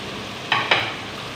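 Tomatoes dropped into a pan of lightly browned chicken for aloo palak chicken salan give two quick, close sizzling bursts a moment apart over a quiet background hiss.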